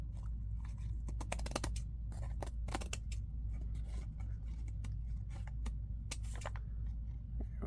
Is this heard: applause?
no